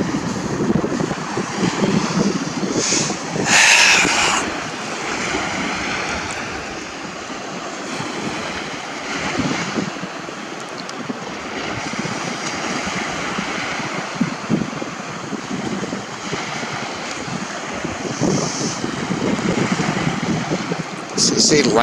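Ocean waves washing in at the water's edge near Melbourne, Australia, make a continuous rushing surge that swells and eases, mixed with gusts of wind.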